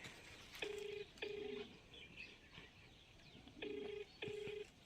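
A phone ringback tone plays quietly on an outgoing call, two paired beep rings separated by a pause, with faint background noise between them.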